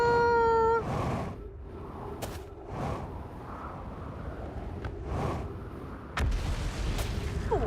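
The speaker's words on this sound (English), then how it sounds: "Oh, explosions." Explosions in the video game Outer Wilds boom in several separate bursts, each a broad rumbling blast with a short tail, spaced a second or two apart over a steady low background, after a brief tonal alarm-like sound at the start.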